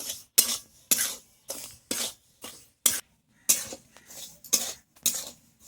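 A spoon stirs chili and cumin powder in a pan while making homemade black salt (bit lobon): about ten quick, rhythmic scraping strokes, close and clear, with short silent gaps between them.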